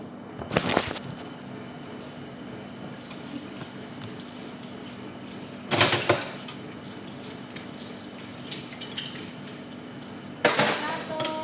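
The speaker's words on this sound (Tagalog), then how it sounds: "Magugas po muna ako ng plato" Plates and dishes being washed at a sink, with three distinct bursts of clinking dishware over a steady background hum and faint running water, each clatter brief and close.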